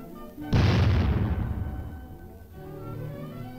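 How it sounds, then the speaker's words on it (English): A single heavy boom as a high-velocity shell is fired at a tank armor plate weld, a loud deep blast with a long rumbling decay, heard over an old film soundtrack with music beneath. "Later, high-velocity shells are fired at the weld itself."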